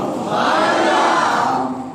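A large religious gathering shouts a drawn-out Subhan Allah chant in unison, loud, sustained, with a single massed roar of voices that swells and holds for about two seconds.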